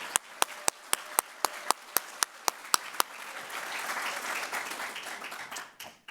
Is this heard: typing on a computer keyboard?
no